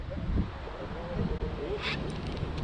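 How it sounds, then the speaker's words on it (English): Steady wind buffeting the microphone at a bream fishing spot on the water, a constant low rumble throughout with brief breathy gusts, outdoors with no clear talking. "Getting a little windy now."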